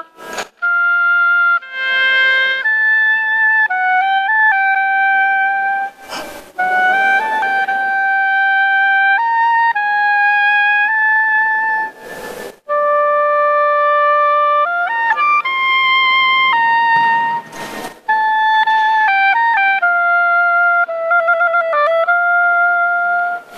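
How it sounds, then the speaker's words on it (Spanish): Solo oboe played alone by a woman from a women's philharmonic orchestra in Bogotá, a clear close melodic line of sustained and shifting notes with short breaths between phrases, loud and unaccompanied. "Quiero escucharte 10 segundos tocando el oboe solo para nosotros."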